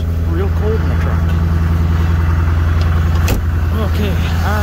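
A Duramax LB7 diesel truck engine idles after a cold start, a steady loud rumble with a low drone throughout and a brief sharp transient partway through.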